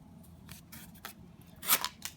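A Zero Tolerance 0562CF folding knife slicing through an old pizza box gives a few short, crisp cardboard cuts and rips, one louder tearing stroke near the end.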